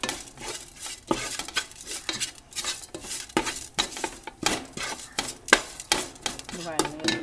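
A spoon scrapes and clatters against a pan while sautéing ingredients for egg biryani. The strokes are quick and repeated, with a faint sizzle underneath.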